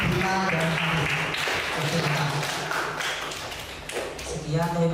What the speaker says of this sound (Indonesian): Tepuk tangan untuk kelompoknya Hibula dan Arif.